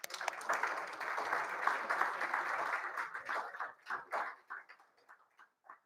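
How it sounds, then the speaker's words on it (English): Audience applause after the Hensoldt sponsor presentation at a conference: a dense burst of clapping that thins out into a few scattered claps and fades away. "May we give them a round of applause, please?"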